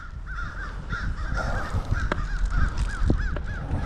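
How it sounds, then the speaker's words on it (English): Crows cawing repeatedly in a steady series from treetops overhead, moderately loud over a low rumbling outdoor background with occasional wind or engine noise. "Birds are going crazy up there."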